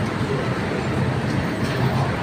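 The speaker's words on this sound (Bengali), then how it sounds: "ভিওয়ার্স চলে আসলাম মেট্রো ট্রেনে" A metro train in Bangkok rumbles steadily along with a continuous broadband roar, heard from inside a moving carriage.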